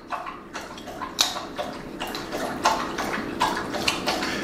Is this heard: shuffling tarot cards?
no